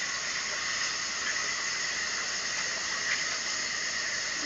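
Water trickling steadily through a drain or sewer line being grade-tested toward a main line, heard as a continuous, even hiss that holds constant throughout with no voices.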